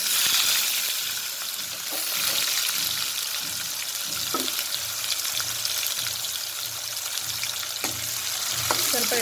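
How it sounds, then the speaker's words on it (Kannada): Chopped onion frying in a pan for a vegetable bhaji, with a steady broad sizzle throughout and occasional stirring scrapes and clinks near the microphone. "ಸ್ವಲ್ಪ ಫ್ರೈ ಮಾಡ್ಕೊಳ್ಳೋಣ."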